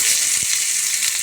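Chopped onion frying in hot oil with cumin seeds while tempering for dal, a steady close sizzle and hiss with a soft clack of stirring partway through.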